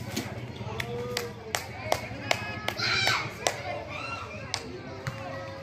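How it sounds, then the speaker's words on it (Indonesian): Spectators at an amateur village football match clap in sharp, separate claps, roughly one every half second, with children's voices and other talk around them. "Tepuk tangan."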